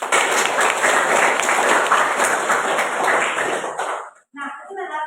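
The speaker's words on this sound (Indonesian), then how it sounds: "kita berikan aplaus dulu." A classroom group claps together in a loud, steady wash of applause lasting about four seconds. It cuts off sharply, then a voice speaks briefly.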